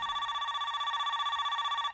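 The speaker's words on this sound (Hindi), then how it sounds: "भाई इसका साउंड बहुत ऊंचा है बहुत फ़ोन आ रहा है मुझे" In a Minecraft horror map, an in-game telephone rings with a steady, pulsing electronic tone that is clear and continuous throughout, with no voices.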